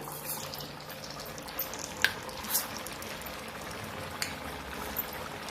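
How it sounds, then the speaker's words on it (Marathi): Vadas frying in hot oil: a soft, continuous bubbling hiss with a few sharp pops and crackles scattered throughout, heard alone without talk. "याच पद्धतीने आपण दुसरे पण वडे तेलावर सोडून घेऊया"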